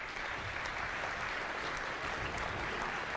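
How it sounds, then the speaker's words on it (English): Audience at a programming contest opening ceremony claps in a dense, even burst of applause that holds steady from start to finish, fairly close and loud with no talking over it. "give a big round of applause to them"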